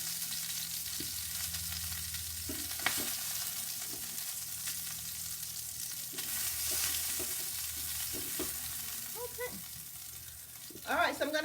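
Chicken browns in a pan for a tagine, a steady close sizzle with occasional scraping and clinks of tongs, at moderate loudness and with no talking.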